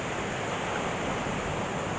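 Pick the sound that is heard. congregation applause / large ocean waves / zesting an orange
large ocean waves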